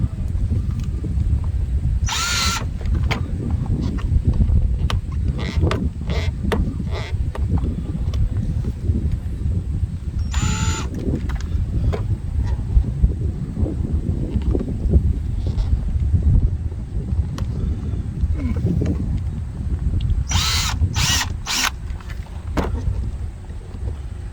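A power drill grinds steadily through a metal bolt on a 2010 Chevy Silverado 1500LT in a long continuous run, with a few brief high-pitched squeals and clanks along the way.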